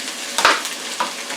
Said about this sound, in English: You hear the frying pan is hot.